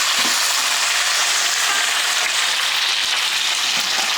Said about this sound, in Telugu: ముందు ఆలు వేసి కొంచెం జస్ట్ అలా ఒక 2 minutes కొంచెం పసుపు వేసేసి వేయించుతాను ముందు